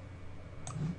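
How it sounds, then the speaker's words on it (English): A single faint, crisp mouse click on a software button, heard once against quiet room tone. "I'm going to come down to the bottom and click"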